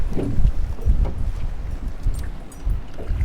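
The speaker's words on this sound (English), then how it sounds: "This wind is blowing like 40 miles an hour down through here." Strong wind of about 40 miles an hour buffets the microphone on open water while bass fishing from a boat, a loud, gusty low rumble with uneven surges throughout.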